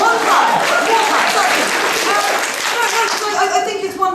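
A stand-up comedy audience at a sexism-themed benefit gig claps and applauds loudly and steadily throughout, with voices mixed into the crowd noise.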